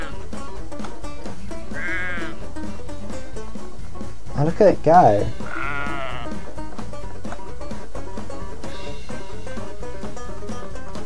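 Synthetic sheep bleats from The Sheep Game come in short bursts among game sounds, with a louder cluster in the middle while a person talks over them.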